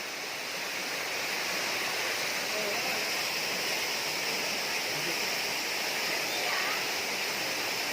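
Steady, dense rushing of water from a waterfall pours without pause, a broad hiss and roar, close and constant.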